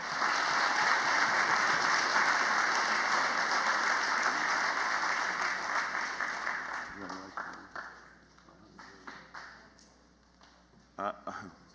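Audience applause at a high school football banquet, sustained clapping from a room full of people that fades after several seconds into scattered claps, shuffling and murmured talk.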